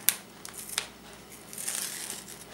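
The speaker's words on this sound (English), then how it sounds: "the hardest part we noticed is getting this off of the carrier sheet" Die-cut paper peels off its carrier sheet in a paper-crafting spring sampler, giving faint crinkling and short crisp snaps against quiet room noise.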